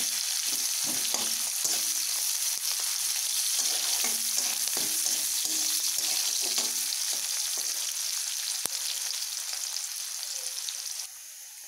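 Onions sizzle steadily in a pan as they fry toward golden, a continuous close crackle with occasional scraping stirs, fading slightly near the end.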